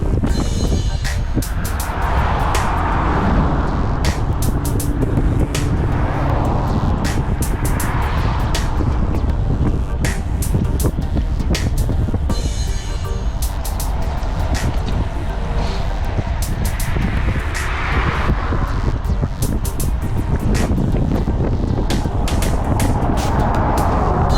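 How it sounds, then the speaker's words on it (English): Strong crosswind buffets the microphone while cycling into a westerly flow near a lake, a continuous loud rumbling roar with gusty swells throughout, and a voice talks over it. "So the stiffest wind is coming from the left."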